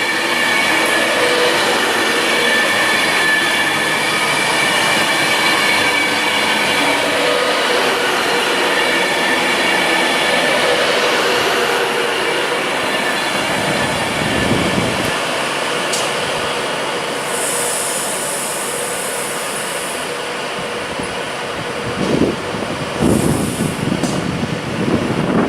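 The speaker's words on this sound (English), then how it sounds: "Departing is 390-123 Virgin Glory with the service bound for Glasgow Central." A Class 390 Virgin train pulls out of Warrington Bank Quay station bound for Glasgow Central, a loud steady rumble and rail roar with wheel squeal and clatter building as it passes close by.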